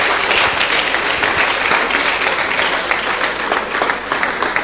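An audience claps for students in a hot-seat session at an event, producing loud, sustained applause that fills the clip with dense, continuous clapping from a crowd close to the microphone.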